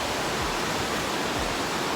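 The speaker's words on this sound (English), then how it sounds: "enjoying the raging brook" A raging brook rushes beside a running trail, a dense, steady roar of churning water that is loud, close and unbroken, with nothing else audible over it.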